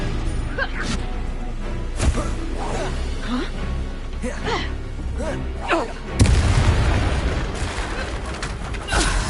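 Spell blasts from Confringo casting in Hogwarts Legacy, with whooshing launches and booming impacts spaced through a magical fight and a heavier crash near the end, while a voice calls out spells over them.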